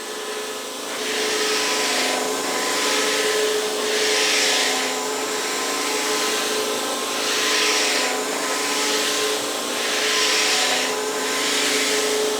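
A BISSELL CrossWave Cordless Wet-Dry Vacuum 2554a runs over a large wet spill with a steady high whine. The suction hiss swells and fades in regular waves as the head moves back and forth, and no one talks over it.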